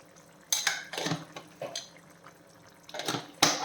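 Paneer masala with garam masala powder being stirred in a pan: a few distinct scrapes and clinks of a spoon against metal, spaced irregularly, close and moderately loud.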